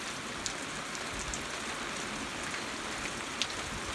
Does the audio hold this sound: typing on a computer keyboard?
no